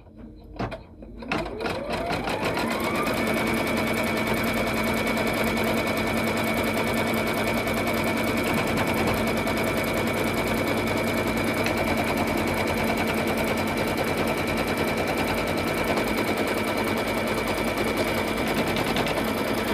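An embroidery machine stitches appliqué onto a sweatshirt, running a tack-down stitch with a loud, steady, rapid needle chatter and motor whine that starts up and continues alone throughout.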